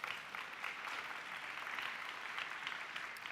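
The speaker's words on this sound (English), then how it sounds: "That is the most applause we get in a show." Steady, fairly faint applause from a live theatre audience at a conference performance, continuous dense clapping without voices.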